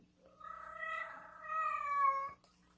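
A house cat meows twice in a drawn-out, rising-and-falling call, fairly close and clear against a quiet room, the second meow longer and louder before it cuts off.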